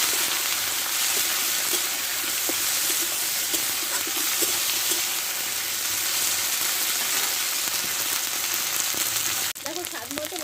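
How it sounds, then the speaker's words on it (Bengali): Onion, ginger, cumin and green chili paste sautés with potatoes in a pan, giving a loud, continuous sizzle with faint stirring. It cuts off abruptly near the end into quieter kitchen sounds. "পেঁয়াজ আর একটু আদা আর গোটা জিরে কাঁচা লঙ্কা বেটে নিয়েছি আমি এর মধ্যে দিয়ে দেবো ভালো করে এখানে কষে নেব মশলাটা"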